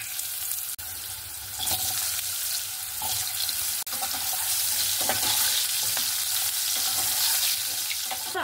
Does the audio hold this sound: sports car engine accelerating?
no